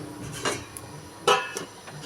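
A lid set over a cooking pot: two or three light metallic clinks and clatters, the sharpest near the middle, close and fairly quiet with no speech.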